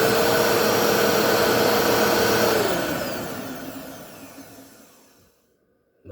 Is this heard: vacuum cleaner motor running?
yes